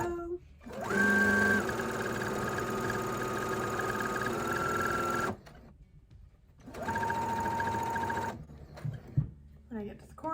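A sewing machine stitches a pinwheel quilt block in two steady whirring runs, a long one and then a shorter one, separated by a pause filled with faint handling noises.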